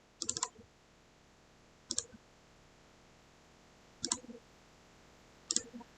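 Four crisp, evenly spaced computer mouse clicks, close and isolated, one roughly every one and a half seconds over a quiet hum, while an image is selected in Word or Google Docs.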